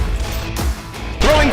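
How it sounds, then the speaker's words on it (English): A grenade thrown in the Web3War video game sounds as a sharp crash, followed moments later by a second whooshing impact, both loud and up close in a dense game mix. "Grenade out!"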